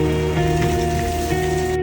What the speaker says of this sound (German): Regen, mitten in der Wüste.